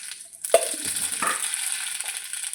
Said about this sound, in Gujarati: આ તેલ ગરમ થઈ ગયું છે એટલે આપણે રાઈનો વઘાર કરી દઈશું. તમે જોઈ શકો છો મેં રાઈ નાખું છું.